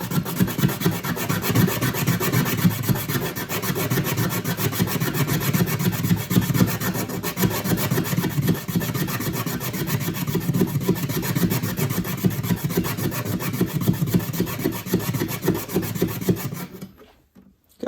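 Sandpaper of 180 grit wrapped around a plastic guitar nut rasps steadily against a wooden acoustic guitar bridge in quick back-and-forth strokes, close and continuous before stopping at the end.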